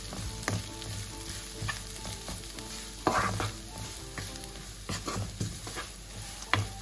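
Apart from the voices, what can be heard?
roasting plantain skin varai in pan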